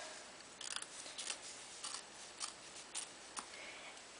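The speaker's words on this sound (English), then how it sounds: "And then you can get your scissors in there. And again, lift up as you're cutting." Scissors snip through appliqué fabric while trimming around a scallop circle letter, giving a series of crisp, close cuts in an uneven rhythm with short pauses between them.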